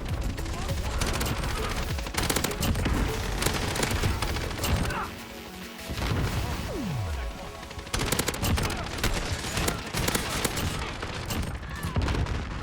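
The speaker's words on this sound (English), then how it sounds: "This kid, I think, genuinely spawns in and just starts lighting it up with his LMG." Dense, sustained bursts of LMG machine-gun fire in a Call of Duty Modern Warfare multiplayer match, loud and continuous, with rapid overlapping shots and game-effect noise throughout, no speech.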